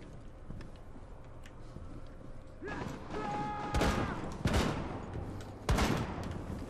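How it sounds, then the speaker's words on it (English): Gunfire in the Rainbow Six Siege video game, sharp shots fired through an armor wall, several loud cracks in irregular bursts over a low background of game ambience. "Glaz is trying to shoot me through the fucking armor wall"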